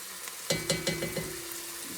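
An ingredient sautéing in a pan for Boeuf Bourguignon, a brief close sizzle with a few stirring scrapes and clicks, short and moderately quiet.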